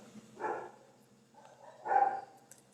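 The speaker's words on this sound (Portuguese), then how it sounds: "A Nina resolveu latir agora, tá vendo" Two separate barks from a dog, one short and one slightly longer, heard indoors at moderate loudness with quiet between them and no talk.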